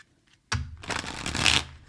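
Deck of playing cards being shuffled, a single close riffle of rapid crisp fluttering clicks lasting about a second, with no talking.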